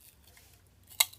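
A single sharp snip near the end as a strip of material is cut for a homemade mini knife blade, one brief close cut after near silence.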